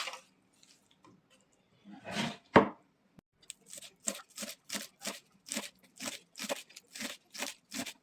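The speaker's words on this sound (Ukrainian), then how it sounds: "наріжемо зелені" A knife chops fresh herbs on a board for courgette and crab stick patties. After a few soft handling noises, about a dozen crisp, evenly spaced chops follow close by.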